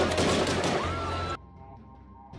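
Gunfire erupts in a film scene of an Israeli special forces squad fighting Palestinian fighters: a loud, dense burst of shots fills the first second and a half, then cuts abruptly to a much quieter background.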